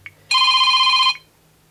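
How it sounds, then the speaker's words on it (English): Default Android phone ringtone: a single bright electronic trill, loud and close, lasting under a second before stopping into quiet. "just going to show you the default settings for my ringtone"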